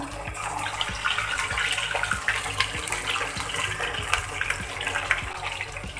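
Chicken pieces for chicken rezala fry in hot oil, a steady dense sizzle with bubbling crackle and regular low knocks, close and even throughout with no speech.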